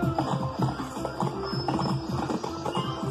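Hooves clip-clopping in the video game BB and Tina's Adventures with Horses, a steady trotting rhythm of repeated hoof beats, moderately loud and continuous.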